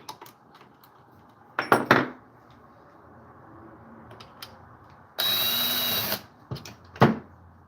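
A socket wrench cracks loose the top handle screws on a chainsaw, giving a few brief close ratcheting clicks and metallic clanks with quiet pauses between.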